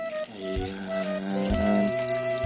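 Vinegar poured over fish in a pan for paksiw, a short trickling, splashing liquid stream heard close and fairly quiet, with a few small thuds along the way.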